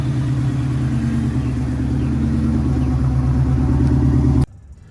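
Whipple 3.0 supercharged Foxbody engine idling, a loud close rumbling drone with steady pulsing that cuts off abruptly near the end.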